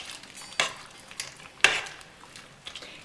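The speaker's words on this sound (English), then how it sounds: "And just give it a stir." A utensil stirs egg noodles through a pot of chicken noodle soup, giving two sharp metallic clinks against the pot amid soft scraping and a few quieter taps.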